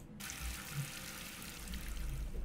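Warm water pours steadily in a video game, a continuous, fairly quiet rushing stream like a running tap, with no talk over it.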